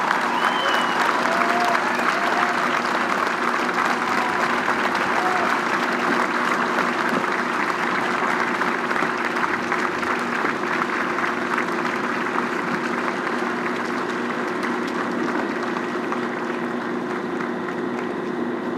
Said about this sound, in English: join me in giving these pioneers, these brave individuals, the praise and the applause that they deserve